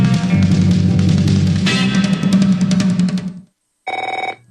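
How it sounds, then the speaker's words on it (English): An old-style telephone bell rings loudly at the start of a radio advertisement on a talk show. It rattles continuously under music, cuts to brief silence, then comes back as a clear trilling ring. "If fear strikes your heart when the phone rings"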